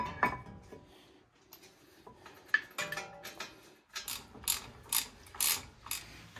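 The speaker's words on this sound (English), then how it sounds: "So now we can put the caliper back down, bolt it back up." A hand ratchet clicks in quick, uneven bursts while bolting a brake caliper back onto a 2014 Cadillac ATS front wheel, close up and fairly quiet, with metallic ticks and short pauses between strokes.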